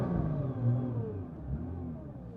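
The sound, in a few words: Nissan R35 GTR launch with Motec M150, engine revving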